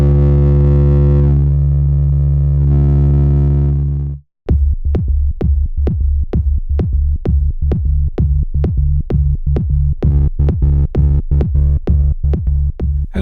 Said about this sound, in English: I used 2 sine waves roughly an octave apart, but I've overdriven them so once they hit the VCA